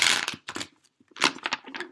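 Tarot cards are shuffled in quick, crisp bursts, two short rustling riffles of cards separated by a brief pause, close and dry.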